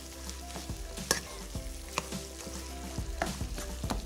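Food fries and roasts in a pan, a steady close sizzle with light scraping and stirring taps recurring throughout, no voices.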